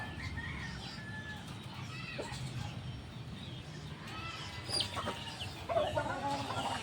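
Chicks and hens clucking and peeping in a backyard flock, with six young chicks recently let loose. Soft, steady chatter runs throughout, with a few sharper calls near the end.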